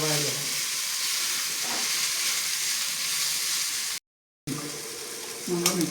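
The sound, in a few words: onions and chow chow sautéing in a pan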